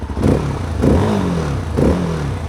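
A 2026 Rieju Rally 307 motorcycle with stainless steel exhaust revs three times in quick succession, each throaty blip dropping back to a rough idle, loud and close.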